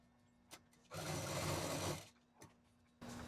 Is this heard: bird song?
no